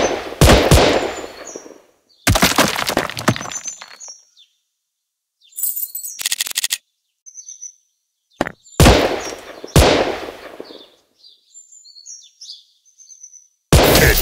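Loud bursts of rapid gunfire in a mobile gun-shooting video game, several separate volleys with short chirpy game effects and silent gaps between them.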